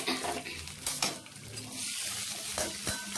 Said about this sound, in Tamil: இந்த அளவுக்கு செவற அளவுக்கு நம்ம வதக்கி விடலாம்